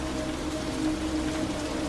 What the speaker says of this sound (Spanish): A simple vista, la lluvia helada parece lluvia normal.